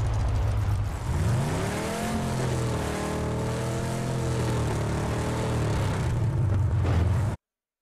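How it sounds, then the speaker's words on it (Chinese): A sports car engine drones loudly and continuously, its pitch sweeping up and down as it revs, before cutting off abruptly. "我刚才听到跑车声音了"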